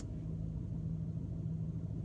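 An Aston Martin DB11 idles in sport mode with a deep, steady low rumble and a constant hum, heard alone without talk.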